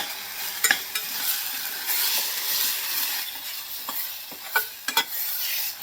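Kasuri methi being stirred into a sizzling chili mixture in a pan, a steady close hiss broken by a few sharp spoon clinks and scrapes against the pan.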